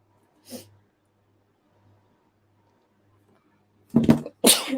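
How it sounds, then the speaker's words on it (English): A brief faint burst early, then two loud, sharp sneezes close together near the end, with quiet in between. "you guys hearing me sneeze, but I couldn't keep that one in"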